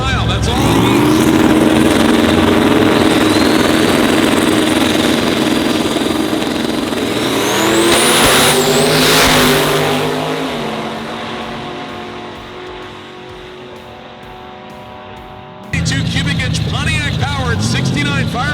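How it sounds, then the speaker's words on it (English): A supercharged Pontiac-powered 1969 Firebird roars at a drag strip, loud and sustained with a rising whine and shifting engine pitch, then fading as it pulls away before a sharp loud return near the end, with an announcer talking throughout. "Pontiac-powered 69 Firebird with a Pro Charger providing extra boost."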